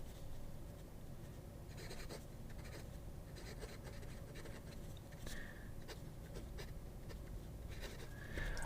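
Visconti fountain pen with a medium nib writing on paper, a soft continuous scratching with short stroke bursts, close and quiet against steady background noise.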